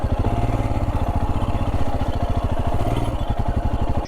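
A motorcycle engine idles close by in a Patagonian village, with a loud, steady, rapid low putter that continues throughout.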